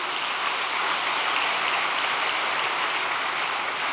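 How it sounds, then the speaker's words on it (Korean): A congregation applauds at a church all-night vigil gathering: steady, dense clapping, loud and close, continuing without a break and with no voices over it. "박수 한번 올려주시기 바랍니다."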